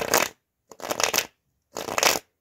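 Playing cards shuffled in three quick riffling bursts separated by short pauses, crisp and close, loud against silence, with no talking.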